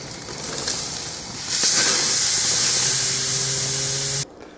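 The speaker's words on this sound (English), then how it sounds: "So I'm out at the grill getting my sear on." Meat searing on an outdoor grill gives a steady, loud hiss that swells partway through and holds before cutting off abruptly near the end.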